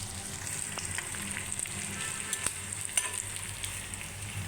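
A pan fry sizzles quietly and evenly after onion is added, broken by a few light clicks and taps of stirring. The sound is moderately close and there is no talk.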